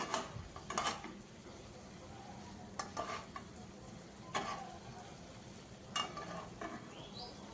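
Fried katla fish is stirred into a mustard masala in a pan, with a soft, low sizzle beneath several separate scraping stirs of a utensil, no speech.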